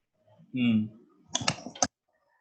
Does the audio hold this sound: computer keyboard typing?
yes